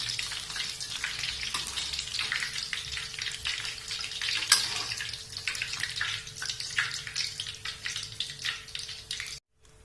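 Wontons frying in hot oil for yen ta fo noodles, a steady close crackling sizzle filling the whole stretch with dense popping bubbles, cutting off abruptly near the end.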